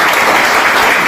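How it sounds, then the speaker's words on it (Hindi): Loud, dense applause from a crowd at a business seminar, steady and sustained throughout with no gaps. "जोरदार ताली होना चाहिए"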